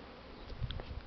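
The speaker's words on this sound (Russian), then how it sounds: "Будем слухать, как пчелы гудут." Honeybees in their first strong spring cleansing flight on a warm day, a faint low buzzing with a few louder passes as bees fly close by.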